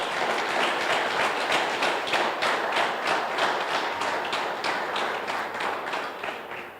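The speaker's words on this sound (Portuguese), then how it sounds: "Pode aplaudir e glorificá-lo." A church congregation claps together in a dense, steady round of applause. Individual claps are audible throughout, and the sound fades gently toward the end.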